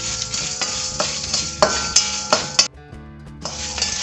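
Coriander seeds, dried red chillies and fenugreek dry roast on low flame in a pan, stirred with a spatula: loud, close rhythmic scraping and rattling strokes, a brief pause, then stirring resumes.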